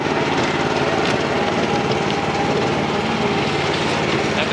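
A concrete mixer engine runs steadily on a building site, heard from roughly eight to ten feet away as a loud, continuous mechanical drone with no talking.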